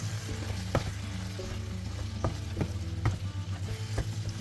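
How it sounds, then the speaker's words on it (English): Seasoned ground beef, salted and peppered with cayenne, frying in a pan for a potato casserole, with a steady sizzle and periodic scraping strokes of a spoon stirring it through, close and without talk. "just mixing this through. Make sure the meat is nice and mixed."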